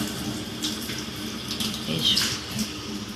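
Water running steadily from a tap while crab is washed, a low continuous splashing rush with small clinks and drips, fairly quiet.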